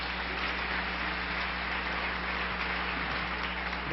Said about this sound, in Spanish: Un aplauso para mis hermanos.